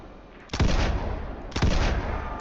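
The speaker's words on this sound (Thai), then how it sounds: "เราได้ยิงปืนแล้วทุกคน" Two loud gunshots ring out in the Roblox-style train survival game Dead Rail, spaced about a second apart, each a sharp broadband blast with a lingering rumbling tail.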